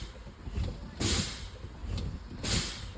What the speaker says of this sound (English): I'm going to pump and fan down my brakes until my low air warning light and buzzer comes on